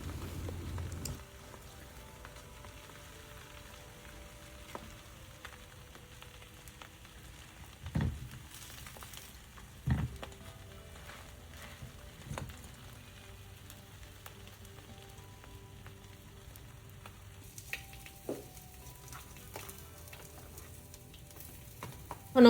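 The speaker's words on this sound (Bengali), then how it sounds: "আমি বাটারে এই অমলেটটা বানিয়ে নিয়েছি আর অ্যাড করছি তোমার স্পিনাচ আর চেরি টমেটো" An omelette with spinach and cherry tomatoes frying in butter, a soft, steady sizzle with occasional light pops and clinks throughout.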